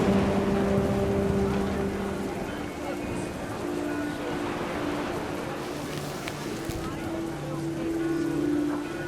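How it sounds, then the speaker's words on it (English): Steady heavy rain pours down in What Remains of Edith Finch, a dense hiss of drops on surfaces holding constant, with a low tonal hum running beneath. "The rain came down in buckets then"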